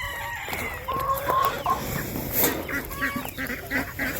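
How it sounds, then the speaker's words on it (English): A backyard rooster kept with meat birds clucks and calls in short bursts, close by, with other fowl chattering around it. "He's a super sweet rooster."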